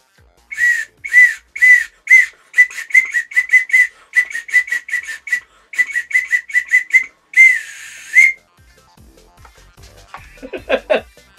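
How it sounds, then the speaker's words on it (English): Bursts of shrill whistle blasts from a novelty whistle out of a Wolfenstein 2 loot box, sounded in quick rhythmic runs of short toots and longer calls, loud and close, ending with a brief chuckle. "we've got a whistle to call the Panzerhunds"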